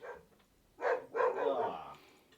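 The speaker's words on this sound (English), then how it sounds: "Dog is barking." A dog barks a few times nearby, two or three quick sharp barks in a short burst, fairly loud against an otherwise quiet room with no talking.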